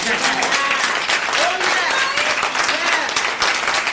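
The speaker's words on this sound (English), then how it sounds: "Let's clap ourselves up." Sustained applause from a crowd, dense and steady clapping with some voices and cheers mixed in throughout.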